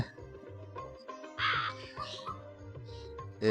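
A cartoon crow cawing in a Bangla cartoon, a few harsh caws in short bursts over a bouncy background music track.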